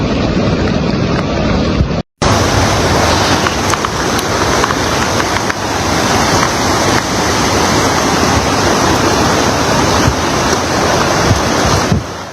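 Loud, roaring rush of the flooded Guadalupe River in Texas, continuous and dense, with wind buffeting the microphone and a brief cut near the start.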